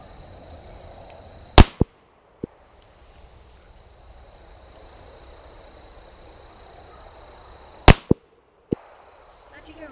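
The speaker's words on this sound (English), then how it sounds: "now I'm gonna shoot the same size silhouette target, 10 rounds" A Beretta U22 NEOS pistol fires at a silhouette target on a range, with two sharp, loud shots several seconds apart, each followed by brief echoes or ringing clanks, over a quiet background with a steady high tone.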